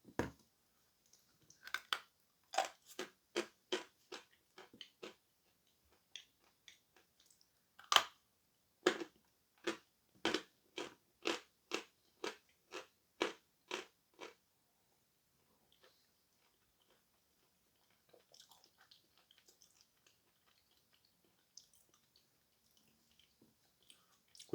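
Someone chewing a piece of Crimean chalk up close, producing a long run of rhythmic crisp crunches that slow and fade into softer, sparse chewing.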